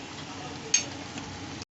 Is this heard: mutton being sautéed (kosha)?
yes